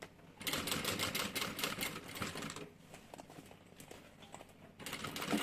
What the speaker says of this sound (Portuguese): vem costurando, ó, lateral rente a essa lateral